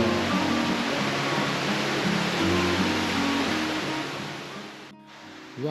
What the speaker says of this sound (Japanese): 滝が見えるんじゃなくてお湯が滝なんですね